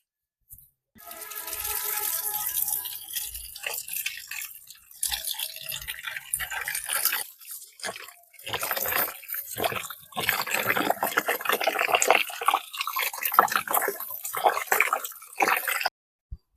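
Broken rice and hilsa fish being rinsed in water in a home kitchen, with close, continuous splashing, dripping and running water, stirred by hand in uneven bursts and short pauses.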